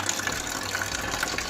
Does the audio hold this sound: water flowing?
yes